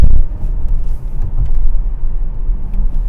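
Tesla Model S P100D in Ludicrous mode with bald tires launching hard, a loud low rumble and road roar from inside the car, surging and steady across the whole clip.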